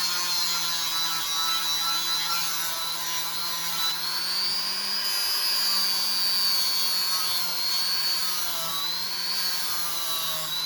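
A small rotary tool grinding a knife blade, a steady high whine with a faint buzzing drone, held evenly and unbroken throughout with no talk.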